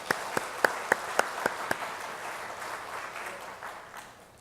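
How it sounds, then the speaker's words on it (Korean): Congregation applause at a Sunday church service welcoming a newly registered member, a few distinct claps first, then a sustained, moderately loud round of clapping that gradually fades. "우리의 박수로 그분을 환영하겠습니다"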